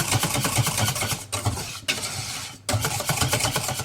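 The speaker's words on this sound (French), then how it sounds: "Et là, je viens bien fouetter aussi." Lemon tart cream being whisked with mascarpone in a bowl, a fast, continuous rhythmic whirring with three brief pauses, loud and close, without any talking.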